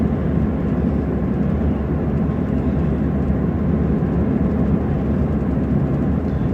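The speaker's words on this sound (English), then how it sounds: "Tires are louder than normal." Loud, steady tire roar from a vehicle driving along the road: a dense, unbroken low rumble that holds level throughout, with no talking.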